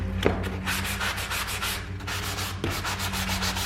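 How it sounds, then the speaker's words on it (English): Hand sanding of painted wood trim such as baseboard, casing and crown, with steady back-and-forth rasping strokes that are close and loud, with no voices. "So you can just sand off all that excess"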